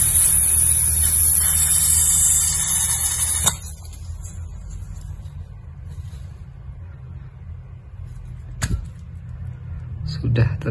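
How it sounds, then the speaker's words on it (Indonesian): Butane gas hisses steadily while being refilled into a portable gas soldering torch, a loud continuous spray for about three and a half seconds before it cuts off, leaving a quiet room with a few faint clicks and handling noises. "Saya coba isi gas dulu."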